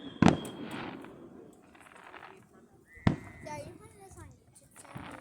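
Fireworks pop outdoors: two sharp bursts, a loud one near the start and another around the middle, with crackling between them, while children talk nearby.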